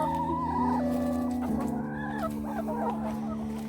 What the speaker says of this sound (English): All these birds are just following me around.